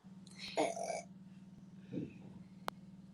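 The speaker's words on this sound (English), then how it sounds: "Was that you that just burped?" A burp rises loudly and briefly near the start, followed by a second, softer one about a second later, both over a steady low hum in an indoor room.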